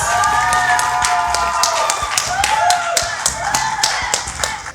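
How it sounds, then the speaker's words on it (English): An audience at a school knock-out match claps for the team, scattered sharp hand claps rising over crowd murmur and some tonal background sound, fairly close and lively. "A round of applause for the team"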